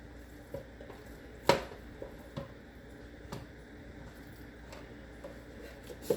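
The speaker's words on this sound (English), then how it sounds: "So now I'm going to place it on my baking pan." Seasoned jerk red snapper laid onto a metal baking pan: soft, wet squishes and light taps against the pan, with one sharper clink and a few scattered small knocks in a quiet kitchen, and no voices.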